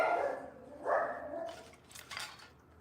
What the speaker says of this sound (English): I have two miniature schnauzers and they're great dogs. The only thing is that they bark at anybody walking by.